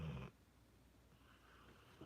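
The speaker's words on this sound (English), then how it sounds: "I know you guys heard him snore that time." A pet snoring close by, one short, loud, rough snort at the start, followed by near silence and faint room noise.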